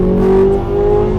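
Corvette C8 Z06, lowered, with aftermarket exhaust, heard from inside as it accelerates: a steady, loud engine drone with a strong low hum that holds throughout the short burst.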